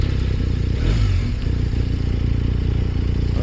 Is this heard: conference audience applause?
no